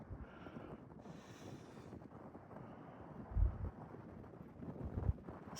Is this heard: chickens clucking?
no